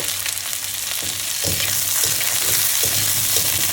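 Chopped pieces sizzle steadily in a little hot oil, a loud continuous frying hiss with occasional stirring clatters near the pan, no talking.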